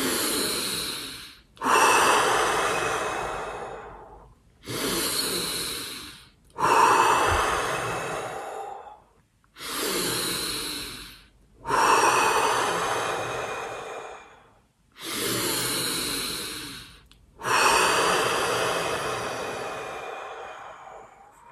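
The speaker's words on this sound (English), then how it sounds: "Let's breathe 5 times deep in and out." Slow, deep Tummo-style breaths, roughly eight long forceful inhales and exhales in a steady rhythm, each separated by a brief pause, close and loud with nothing else heard.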